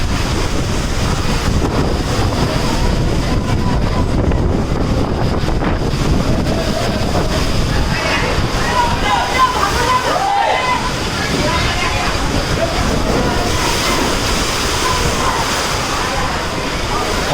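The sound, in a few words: heavy rain and strong wind outdoors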